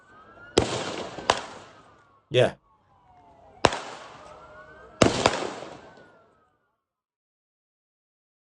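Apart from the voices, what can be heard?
gunshots from ongoing shooting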